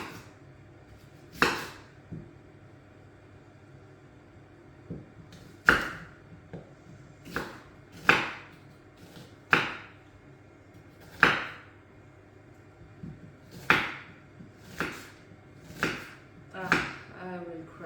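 A knife chops garlic on a board in slow, separate strokes, roughly a dozen sharp close knocks spaced a second or two apart, quickening into a short flurry at the end, with quiet talk between.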